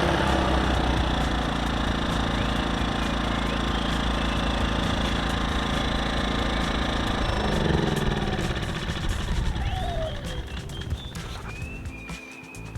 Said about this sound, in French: on peut également démarrer la génératrice manuellement si la batterie ne marche plus